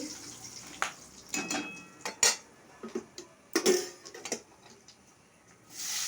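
Black cumin seeds and a dried chilli stirred in hot oil in a pan, giving scattered close clinks and scrapes of a utensil against the pan, with no talking.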